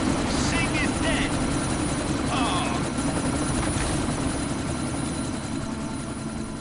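A helicopter in the video game Deus Ex: Mankind Divided drones steadily with a dense rotor roar throughout, loud and constant, with faint chirps and distant effects layered over it.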